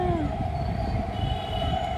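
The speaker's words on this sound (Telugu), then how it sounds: "ఇంకా ట్రైన్ వచ్చేసింది" A train arriving, heard as a steady low rumble with a sustained metallic tone and a brief falling squeal at the start, moderately loud throughout.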